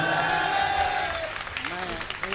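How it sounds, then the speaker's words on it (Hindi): Audience clapping at a Hindi poetry recital, a short burst of applause that fades as a voice begins speaking over it. "ये वही लोग तालियां बजा रहे हैं"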